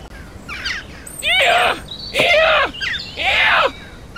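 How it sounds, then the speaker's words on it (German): A jackdaw (Corvus monedula) calls in a video game: three loud, harsh, slightly nasal calls spaced about a second apart, close and clear over a faint ambient bed. "hörst du die Dohle hinter uns? Lateinisch Corvus Monedula."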